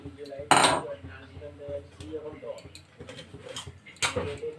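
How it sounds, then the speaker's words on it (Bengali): A metal wok set down on a kitchen stove while preparing a Bengali vegetarian banana-flower curry, two sharp clanks about three seconds apart amid lighter clinks of cookware, with a person speaking throughout. "কড়াই বসালাম"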